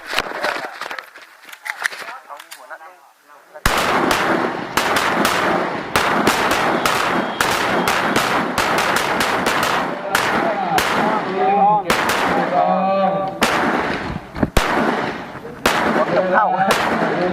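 Gunfire at an annual shooting practice: dense, loud volleys of sharp rifle shots crack in rapid, repeated bursts over most of the stretch, with a brief quieter gap near the start and shouted voices mixed in.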